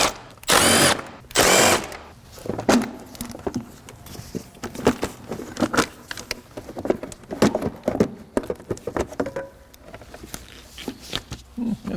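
A power driver with an 8mm socket on the air filter screws of an Acura TL: two short loud whirring bursts near the start, then a long run of clicks, taps and rattling handling noises up close.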